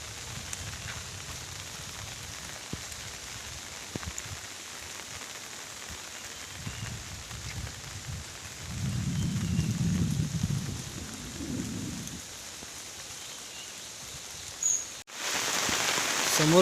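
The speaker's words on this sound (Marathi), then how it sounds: "समोर जबरदस्त असा पाऊस लागतोय बघा." Heavy rain falling outdoors in a village forest near a river, a steady wash of rainfall throughout with a louder swell in the middle, no voices.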